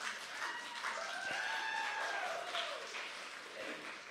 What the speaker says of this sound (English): that wasn't a cue for you to clap